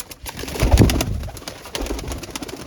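Pigeons coo close by, giving one deep rolling coo that swells and fades within a few seconds.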